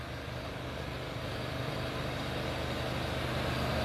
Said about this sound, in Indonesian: Ini mesin nyala, teman-teman.